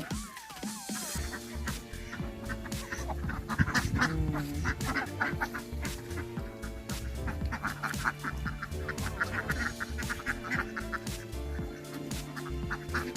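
Ducks being herded across open fields quack and honk continuously, a dense, busy flock chorus close by with overlapping calls throughout and no talking.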